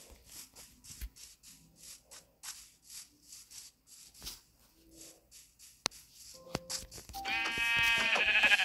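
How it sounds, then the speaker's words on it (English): Sheep in Minecraft bleating, with soft shuffling and faint scattered clicks first, then a loud, near bleat rising at the end. "No, sheep."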